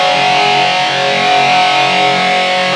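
Electric guitar through overdrive distortion with a clean boost pedal engaged, a loud, thick sustained chord ringing steadily for a few seconds.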